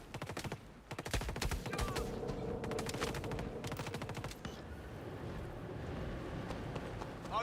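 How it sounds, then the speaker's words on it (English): Rapid bursts of enemy gunfire in the sci-fi shooter Star Citizen, dense cracking volleys near and loud, with a calmer stretch of sustained shooting and background noise later on. "Okay, they're actually gonna shoot me."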